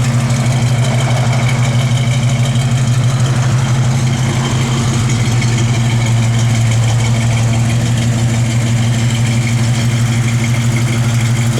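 A 1955 Chevrolet 210 idles steadily, a strong low rumble holding even and loud for the whole stretch, with no voices over it.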